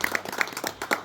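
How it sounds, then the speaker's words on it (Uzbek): A handful of audience claps, close and uneven, ring out in a brief patter at a family gathering. "Ayta qarsak bo'ladi."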